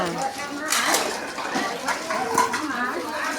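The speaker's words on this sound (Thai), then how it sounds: "กินเสร็จแล้วก็มาช่วยกันล้างจานค่ะ" Plates, pots and cutlery clink and clatter as dishes are washed after a shared meal at a temple merit-making event during Songkran, with people chatting over the busy kitchenware sounds.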